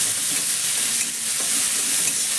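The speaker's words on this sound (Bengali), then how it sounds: "এবার সব কিছু একসঙ্গে হালকা করে একটু ভেজে নেব।" Chopped green chilli and capsicum sizzle gently in a pan with oil, a steady close crackling hiss with faint stirring scrapes and no voices.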